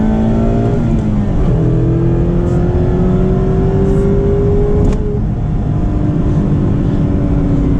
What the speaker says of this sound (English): We'll accelerate on the highway,